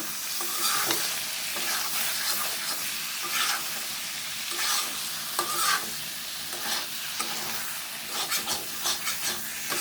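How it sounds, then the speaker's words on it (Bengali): Beef tripe frying in a pan, a steady loud sizzle and hiss with repeated crackling bursts from stirring, close and with no talk. "একদমই ভেজে নিচ্ছি।"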